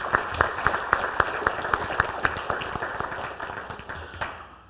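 Banquet audience at the 2013 ISNA Banquet applauding a man, sharp rhythmic clapping with distinct individual claps, fairly close, tapering off near the end.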